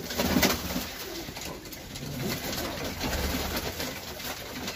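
Pigeons cooing close by at a Turkish pigeon breeder's loft with Buhara and Mantolu breeds, soft repeated coos over a steady background hum, with no talking.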